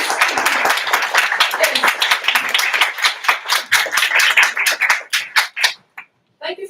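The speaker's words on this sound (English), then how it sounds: "Please clap, please." An audience at a veterinary student symposium breaks into rapid, lively clapping that builds into a sustained round of applause, then thins to a few scattered claps and stops; a voice speaks briefly near the end.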